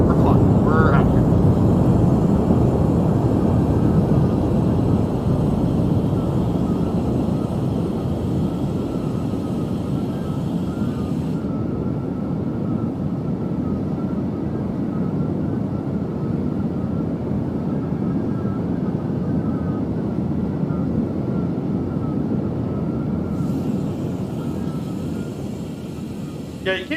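A Douglas DC-3 propeller airliner flies between Zagreb and Athens, and a constant heavy engine drone fills the cabin for the whole stretch, with talk faintly underneath.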